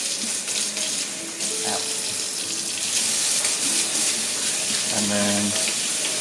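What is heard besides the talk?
tap water running while rinsing soapy hands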